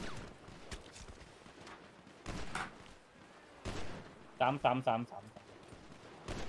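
A burst of three or four quick gunshots in GTA V, following a few scattered single impacts, heard over steady game background with people talking.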